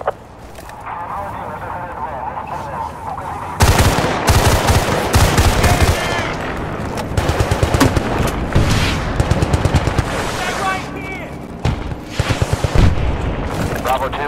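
Battlefield Bad Company 2 gunfire: bursts of automatic fire, explosions and rolling battle noise, loud and dense from start to finish and heaviest in the second half, with the occasional voice underneath.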